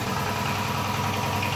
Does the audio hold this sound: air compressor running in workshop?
yes